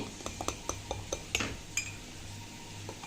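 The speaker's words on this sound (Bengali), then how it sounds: "আমি চার পাঁচ মিনিট এভাবে চামচ দিয়ে বিট করে নিয়েছি" A spoon beats instant coffee in a cup, ringing with a rapid series of light metallic clinks that fade out partway through, close and quiet over faint background hum.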